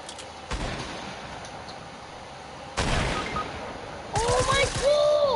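Video game gunfire, including shotgun blasts, bursts out in several sharp loud shots separated by short gaps, with excited voices talking between them.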